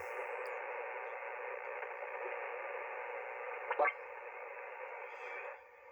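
A ham radio receiver tuned to a quiet band gives a steady hiss of band noise, with a brief click near the end before the hiss drops away; no speech.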